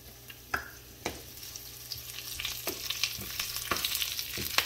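Mustard seeds, cumin and dried red chillies tempering in hot oil make a continuous close sizzle punctuated by repeated sharp pops and spits that grow busier toward the end.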